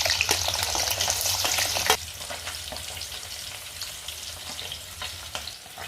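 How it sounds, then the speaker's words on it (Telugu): Pieces of paneer deep frying in hot oil, a loud crackling sizzle that drops suddenly to a quieter, steady bubbling hiss with scattered pops, close by and without talk. "ఆయిల్ హీట్ అయ్యాక పన్నీర్ పీసెస్ అయితే వేసుకోండి."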